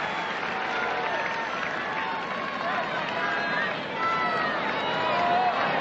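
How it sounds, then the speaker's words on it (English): A large, noisy tennis crowd at the US Open final applauds steadily as a dense, continuous roar of clapping and cheering, with no speech over it. "Typical New York crowd. Very appreciative, very, very noisy."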